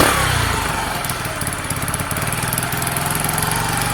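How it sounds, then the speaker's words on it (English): A Sinnis SC125 scooter engine with a suspected throttle cable fault and a pod air filter runs loud and close, its idle surging and revving up on its own in a steady, buzzing drone with no talk over it. "There we go, revving itself up again."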